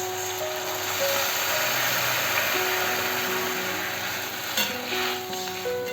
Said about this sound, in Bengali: আমি এবার এর মধ্যে একটু জল দেব।